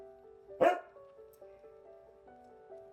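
A single sharp dog bark sounds from outside a window, fairly faint, followed by a steady tonal hum with soft ticks in an otherwise quiet room.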